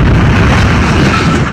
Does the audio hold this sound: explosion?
yes